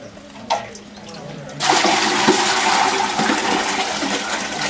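Water sloshes and pours in a steady, loud rush during a hot-water bath at a village home, starting abruptly after a quieter moment with a faint splash and continuing without a break to the end.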